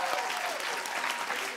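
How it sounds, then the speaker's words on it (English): Steady applause from a forum audience, a dense wash of clapping hands that fills the whole moment at even loudness. "Round of applause."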